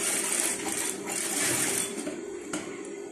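Sewing machine stitching a mandarin collar without interfacing, a quiet, continuous mechanical whir with fine rapid ticking and a small clack partway through.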